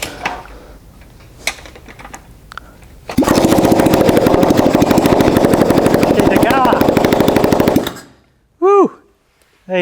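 A street sweeper engine catches after cranking and runs loud and steady with a rapid pulsing beat for several seconds, then cuts off abruptly, followed by a few brief whistling tones; talk is heard before it starts.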